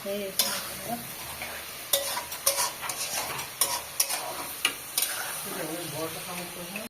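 Red lentils stir-fried in a pan give a steady sizzle with repeated scraping stir strokes and a few sharp clinks of a utensil against the pan, close by, with no talking.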